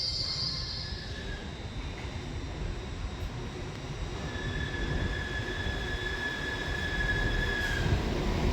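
A train rolling slowly into a station with a low rumble, metallic wheel squeals drawn out over the top, steady and moderately loud.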